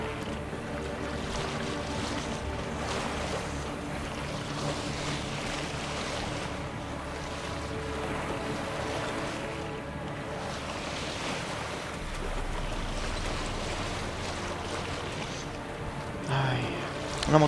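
A boat moves across water in The Witcher 3, with a steady wash of waves and wind rushing throughout and a brief knock near the end.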